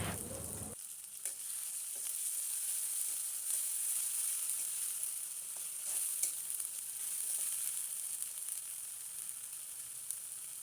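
Pangas fish curry sizzling in a pan, a steady high hiss of hot oil throughout with occasional soft clicks and stirring ticks, close and continuous with no voices.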